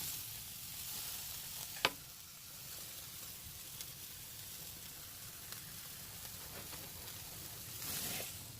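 Tri-tip sears on a 26-inch Weber Kettle grill with a quiet, steady sizzle, broken by a sharp click near two seconds and a louder scrape or hiss at the end, with no speech.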